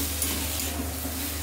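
Chickpeas hit a hot pan for a potato and paneer curry, giving a steady, close, even sizzle of frying with no pauses or voices.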